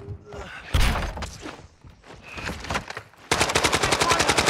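Video game gunfire with sniper shots: scattered loud reports early on give way to a fast, steady burst of rapid shots at the end, with a little voice underneath.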